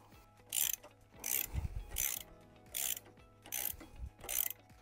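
A ratcheting wrench tightens the upper shock absorber bolt on a Royal Enfield Interceptor 650 motorcycle, six evenly spaced bursts of clicking pawl action, quiet and close, with no talk.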